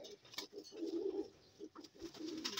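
A pet pigeon coos in soft repeated phrases close by, several low rolling calls with brief pauses between them.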